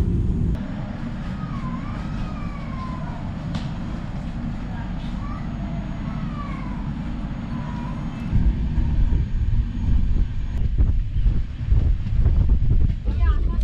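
The 12665 Kanniyakumari SF Express rolls into Nagercoil station with a steady low rumble and wind rush, growing into louder, uneven clattering near the end, with faint voices in the background.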